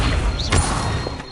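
Incendio fire spell cast in a Hogwarts wizarding video game, a short whooshing burst of flame with a thump, loud and close, set against steady game background noise.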